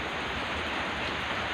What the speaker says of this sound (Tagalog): Malakas na ulan nga, gabing ulan ngayon